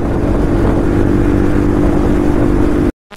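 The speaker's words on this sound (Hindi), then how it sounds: "मेरा सुना कुछ डुक डुक करके आ रहा है भाई पीछे से फिर देखा कि भाई हार्ले डेविडसन" A loud, steady engine rumble from a Harley-Davidson motorcycle, droning continuously up close before cutting off abruptly near the end.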